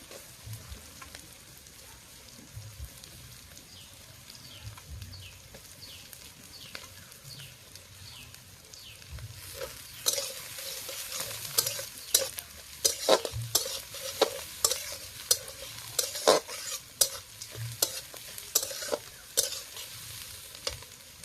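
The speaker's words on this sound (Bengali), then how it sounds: "পেঁয়াজগুলো দিয়ে দিচ্ছি আগে।" Onions fry in oil in a pan for a meat dish cooked outdoors in a garden, first a quieter sizzle, then loud, frequent scraping stirs with a spatula and crackling over a windy background.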